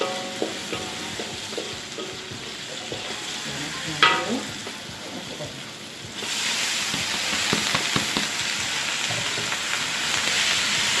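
Pegaga (water pennywort) frying with belacan in a pan close by, a steady crackling hiss that grows louder partway through, with occasional stirring scrapes.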